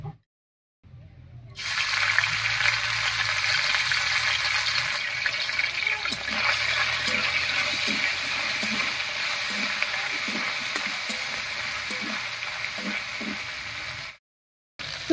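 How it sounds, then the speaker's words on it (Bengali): Dried fish sizzling as it fries in hot mustard oil in a pan on a stove, a steady close crackling hiss that runs continuously for most of the clip and then cuts off abruptly near the end. "তেল গরম হয়ে গেছে, তেলের মধ্যে এবারে শুটকি মাছটা দেব।"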